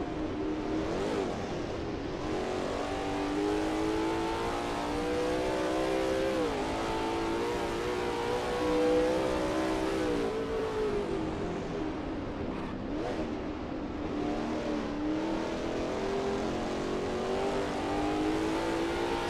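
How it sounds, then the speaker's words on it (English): A Lola T70 MkII Spyder race car in a racing video game at Bridgehampton, its engine droning loud and steady with rising and falling pitch as it shifts through corners, continuous throughout with no talk. "Sketty is expertly commanding that car through turn 2"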